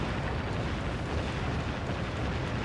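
Warship cannons fire continuously in the naval combat game Warship Gunner 2, a dense, loud, unbroken barrage of booming blasts and rumbling explosions with no distinct pauses.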